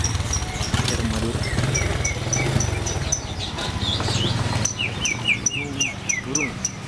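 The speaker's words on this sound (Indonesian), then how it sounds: "Burung." Outdoors, birds chirp in short repeated high tweets over steady background noise and a low rumble, with a rising run of quick calls toward the end.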